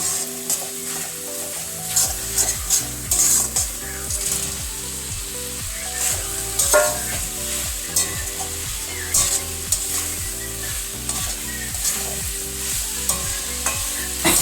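Chicken fries in tomato sauce in a pan under constant loud sizzling, while a spatula scrapes and knocks against the pan in a steady, fast rhythm throughout, close up and without speech.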